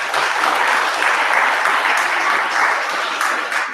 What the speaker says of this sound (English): We could give another round of applause to all those students and teachers.